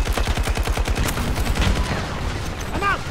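Rapid gunfire from Battlefield 2042 combat, a dense burst of loud repeated shots over the first second or so, then scattered echoing reports and fading rumble.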